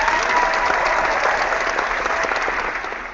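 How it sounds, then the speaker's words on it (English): A round of applause from a group, dense steady clapping that starts full and gradually thins and fades toward the end. "I'm going to give Samsung a round of applause."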